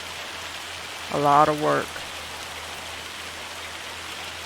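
Steady rain hiss from the Farming Simulator 25 game fills the background, a soft continuous wash with a brief spoken phrase over it.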